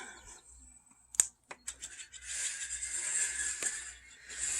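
Several red-winged blackbirds call and sing outdoors in spring, with a few sharp clicks and a dog nearby, their bright trills rising into a steady, moderately loud chorus through the second half.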